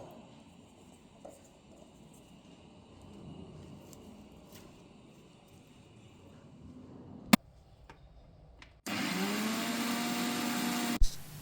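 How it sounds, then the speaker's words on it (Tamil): A mixer grinder blends coriander, ginger, garlic, green chilli and grated coconut into a paste with a little water, starting with a click and running as a loud steady whir for a couple of seconds after a quiet stretch of kitchen noise. "அரைக்கும்போது கொஞ்சமாக தண்ணி ஆட் பண்ணி நல்லா பேஸ்ட்டாக அரைச்சிக்கோங்க."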